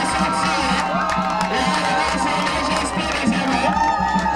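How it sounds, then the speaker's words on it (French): Crowd cheering and acclaiming at a traditional chief's installation ceremony with notables present, a continuous outdoor wash of voices and shouts at moderate level. "Sur vos acclamations"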